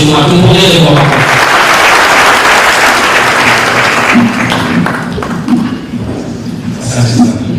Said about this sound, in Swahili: Karibu sana Mheshimiwa, tumpongeze kwa makofi.